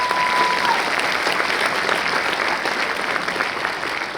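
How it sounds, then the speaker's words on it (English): A large audience applauds in a steady, full burst of clapping that carries on for several seconds, with faint crowd noise and no speech on top. "Give them a round of applause."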